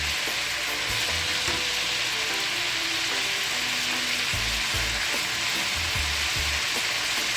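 Chicken pieces for fried rice sizzle steadily in a hot pan, a loud continuous crackle and hiss with occasional stirring scrapes and clunks, close up and without talk.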